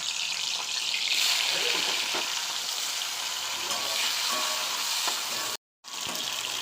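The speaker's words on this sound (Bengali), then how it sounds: "চিংড়ি মাছগুলো আমি ভেজে নেব।" Prawns fry in oil in a wok, giving a steady close sizzle and crackle throughout, broken by one brief silent gap near the end.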